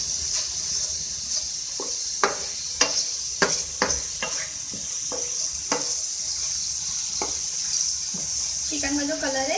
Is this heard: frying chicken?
yes